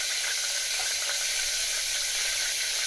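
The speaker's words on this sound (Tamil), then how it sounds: "எண்ணெய் இப்படி நல்லா பொரிஞ்சு வந்தீங்கன்னா பட்டை மிளகாய் போடணும்." Dried red chili frying in hot oil for sambar gives a steady, close hiss and sizzle that holds evenly throughout, with no talking.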